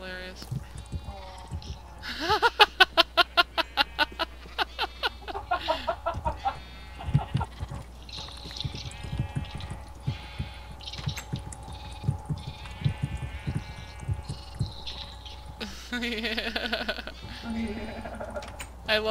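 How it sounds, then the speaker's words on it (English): Repeated Minecraft sheep bleats ring out clearly, some in quick bursts, mixed with other animal-like calls and people talking over them. "I can hear the sheep on Skype."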